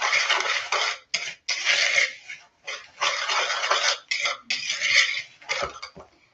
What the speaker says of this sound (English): And mix the dry ingredients